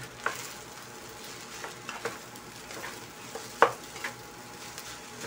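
Fried rice with pork seasoning is stirred and tossed in a hot pan, a steady sizzle under scattered scraping clicks of the utensil, with one sharper clatter midway.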